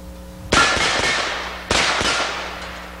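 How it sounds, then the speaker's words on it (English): Two loud, sharp shotgun blasts from a Crossfire MK1 combination pump-action 12-gauge/.223 rifle fired outdoors, each with a sudden crack and a trailing echo, spaced roughly a second apart with no talk. "So far, we've fired 25 rounds out of the magazine."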